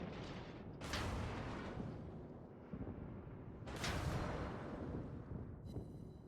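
Naval artillery shells in World of Warships, where two heavy booming salvos each roll into a long rumbling decay, loud and deep over continuous low battle noise, with no voices.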